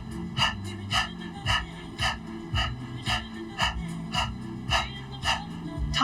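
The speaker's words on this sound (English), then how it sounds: "We're going to start out with an open mouth, sticking out the tongue, panting." Open-mouthed, tongue-out yogic panting in a kundalini breath-of-fire practice: a steady, close run of about nine quick, breathy pants, evenly spaced and alone.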